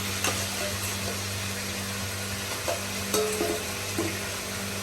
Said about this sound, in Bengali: এবার বেগুনগুলোকে ভাজছে